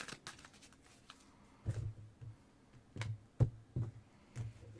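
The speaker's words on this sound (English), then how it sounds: "One more shuffle here" A tarot deck is shuffled in short bursts of soft papery riffles and taps, several quick separate shuffles close by in a quiet room.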